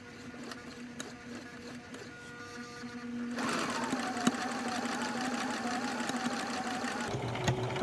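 A Brother XL 3750 sewing machine stitching fabric starts up after a quiet hum and runs slowly, giving a close, steady mechanical whir with a rapid rhythmic needle clatter.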